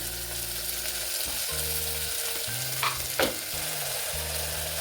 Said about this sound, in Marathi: त्यानंतर टाकते टोमॅटो परतल्यानंतर टोमॅटो मी धुवून घेतलेला आहे टोमॅटो लूप पडा म्हणून मी मीठ टाकून घेते